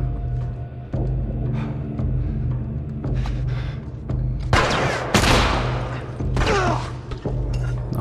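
Gunfire in the video game The Last of Us, a run of sharp shots and bursts with rumbling booms over a steady low background drone, loud and close, with no voices.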